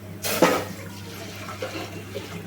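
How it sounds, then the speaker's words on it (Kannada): Jaggery water poured into a pot on a gas stove while making homemade rice payasa: a short rushing splash of liquid near the start, then quieter settling sounds over a steady low hum. "ಬೆಲ್ಲದ ನೀರು ಇಕ್ಕೋತಾ ಇದ್ದೀನಿ"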